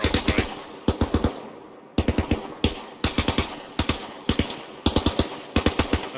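Repeated bursts of automatic gunfire from an enemy soldier in Arma Reforger, sharp cracks in quick clusters of three to five shots separated by short pauses, fairly distant and crisp.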